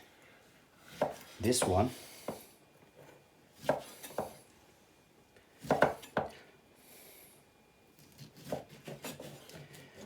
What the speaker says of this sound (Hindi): you just watch how I am cutting this one